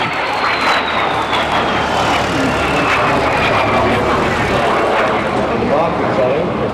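A de Havilland Vampire FB.52 jet aircraft at an air show roars with a loud, sustained engine rush and a slowly falling whine, blended with crowd noise and voices nearby.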